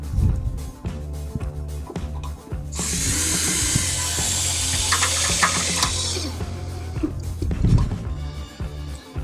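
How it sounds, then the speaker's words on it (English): A power drill with a number 2 square drive bit drives 3/4 inch Tek screws into aluminum stair clips, a loud sustained whirring run of several seconds between short mechanical clicks and handling knocks. "We're going to use our 3/4 inch Tech screws and a number 2 square drive bit."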